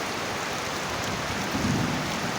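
Steady rain pours down in a thunderstorm, a dense continuous hiss with a brief low rumble of thunder midway.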